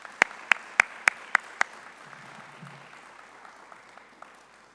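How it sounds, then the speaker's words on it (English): At a national global change conference, six sharp, evenly spaced claps ring out close by, followed by faint, scattered clapping from the wider audience that tapers off. "A round of applause."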